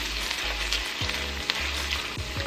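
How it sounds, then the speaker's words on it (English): Garlic sautéing in a pot while making chicken taco soup, giving a steady close sizzle with a few soft stirring scrapes throughout and no talking. "Now go in with your garlic. Saute for another minute."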